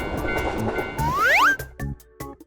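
A cartoon train approaches a railroad crossing in a children's animation, with a bright rising whistle-like sweep over a busy rumble, followed by sharp rhythmic clacks and brief pauses.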